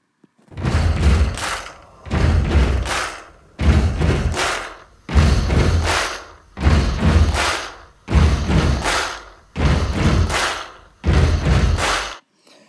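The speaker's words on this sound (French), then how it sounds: "ça, c'est des pieds qui frappent par terre, puis des mains qui frappent ensemble" Eight heavy rhythmic bursts of stomping feet and clapping hands, evenly spaced about a second and a half apart, loud and close with brief pauses between.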